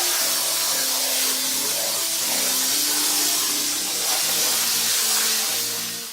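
A spray foam gun applying insulation foam into an open wall bay gives a loud, continuous close-up hiss that holds steady throughout, with no speech.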